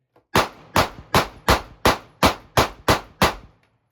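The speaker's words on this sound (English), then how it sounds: "We're going to keep shooting up top above the target." Nine evenly spaced pistol shots from a Sig Sauer P365 or Springfield Armory Hellcat fired at targets, each a sharp loud crack with a short decay, rapid and steady in rhythm, with no voices.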